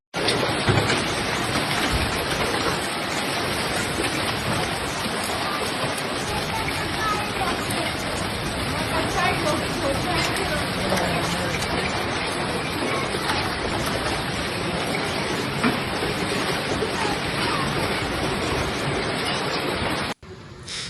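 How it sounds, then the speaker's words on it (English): Heavy hail and torrential rain from a supercell thunderstorm in the Vicenza and Padua area pour down as a loud, dense, unbroken roar for about twenty seconds before cutting off abruptly. "bringing heavy hail, torrential rain,"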